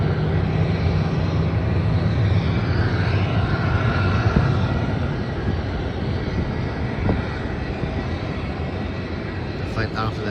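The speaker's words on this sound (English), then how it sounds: "it's quite a small plane as well. So it's a Rex Airlines" A Rex Airlines Saab 340B Plus turboprop gives a loud, steady propeller-engine drone that slowly eases off, with a voice faintly present underneath.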